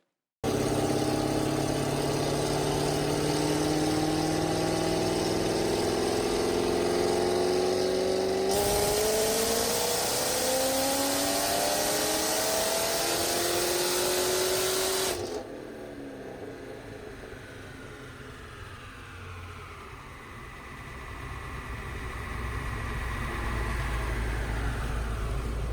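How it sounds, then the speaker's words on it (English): A car engine on a dyno runs loud and steady, with rising revs climbing in pitch, then a sharp change and a quieter lower idle before it builds again. "we've got a vehicle on the dyno"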